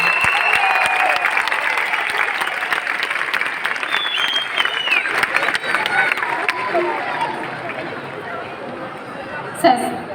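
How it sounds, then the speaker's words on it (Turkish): A large crowd at an outdoor concert celebrating the Turkish Republic's 100th anniversary in Mezitli, Mersin, applauds steadily, dense clapping with scattered chatter and voices mixed in, continuing for about ten seconds. "bir alkış rica edebilir miyim sizlerden"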